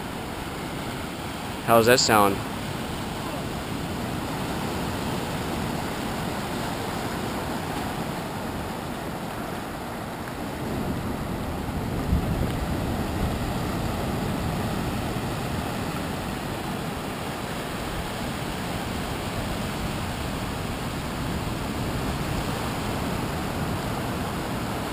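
Ocean waves at Sella Bay at high tide make a steady, broad wash of surf throughout, loud and close, with a brief louder splash early on and a person speaking briefly over it.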